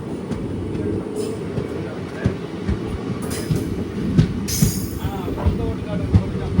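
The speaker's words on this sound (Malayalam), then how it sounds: "ട്രെയിൻ ഇതാ തെന്മല സ്റ്റേഷനിലേക്ക് എത്തിക്കൊണ്ടിരിക്കുകയാണ്" The Kollam–Chennai Egmore Express pulls into Thenmala station, a heavy low rumble of wheels and carriages rolling past nearby with scattered clanks and knocks, steady and loud throughout.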